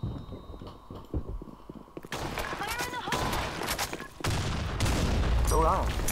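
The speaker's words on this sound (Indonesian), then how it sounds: "Ada orang tembak ni" Bursts of gunfire in a video game, rapid volleys and booming shots layered under excited voices talking over them.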